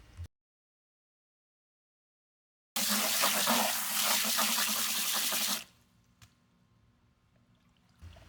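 Water and sand poured off from a mason jar, a loud gushing pour lasting about three seconds after silence, then faint trickles and small clinks.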